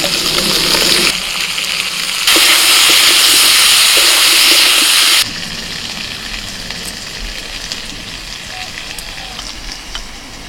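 Radish and beans drop into a hot pan of frying potatoes, setting off a loud, steady sizzle and hiss that surges even stronger for a few seconds before settling back to a continuous fry.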